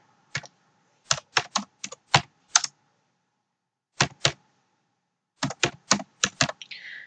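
Quick bursts of typing on a computer keyboard, entering text on a website: close, crisp key clicks in short clusters separated by silent pauses.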